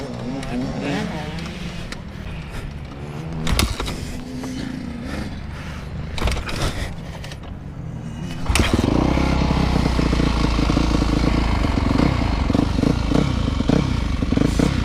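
A 2011 Yamaha YZ250F four-stroke dirt bike is kicked over with rattling clatter and thumps, then the engine catches halfway through and runs loud and close while people talk nearby.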